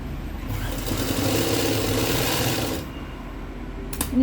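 A sewing machine stitching nightie fabric, a continuous close whirring run for nearly three seconds that then slows and stops, followed by a brief click.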